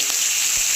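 Cauliflower tipped into hot oil already fragrant with mustard seed, a little black cumin and curry leaves, giving a steady, close hiss of frying with no voices over it.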